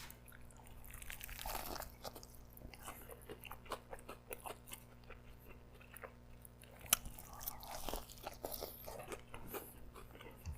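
Someone bites into and chews a large food item, with irregular crunchy bites and wet mastication sounds close to the mic, alone with no talking.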